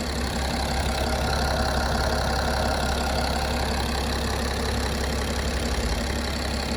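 The diesel engine of a 2017 BMW 330d Gran Turismo idles steadily up close, a continuous low rumble with a faint rhythmic knock and no voices.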